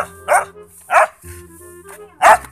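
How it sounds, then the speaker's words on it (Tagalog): A large dog barks three separate times at close range on a family farm, each bark loud and short with quiet gaps between them. "malaking aso ko dito"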